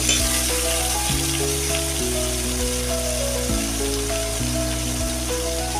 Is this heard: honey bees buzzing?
no